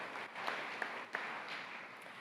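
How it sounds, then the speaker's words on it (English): A graduation crowd at Lakeland High School claps for senior athletes, a distant, hissing wash of applause with a few sharper claps standing out. "we can applaud for them"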